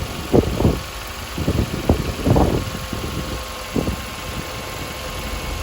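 A 2013 Nissan Sentra engine idles steadily just after starting, with an alternator fault being checked; the low running hum is steady and near, broken by a few short louder thumps and clatters.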